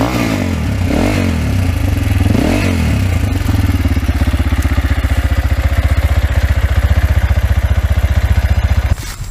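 A Viar Vortex motorcycle engine, just repaired after sitting unused for three years, is blipped a couple of times and then settles into a loud, close, even idle with a rapid pulsing putter before cutting off at the end.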